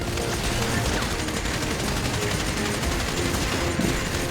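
Sustained gunfire fills a video game heist, a dense, continuous barrage of rapid shots and bursts at close range with no break across the moment.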